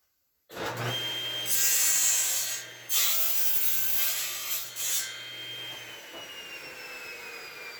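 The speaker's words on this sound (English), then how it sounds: "Maybe I'll just do it on the sander." A live edge wood table top being shaped on a power sander, with a loud, steady abrasive whine and grinding rub that starts abruptly, swells and dips as pressure changes, then continues alone up close.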